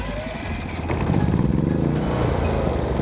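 A Cummins Onan 4500i gas-powered inverter generator starts by wireless remote and settles into a steady, close engine drone, rising slightly in RPM once running.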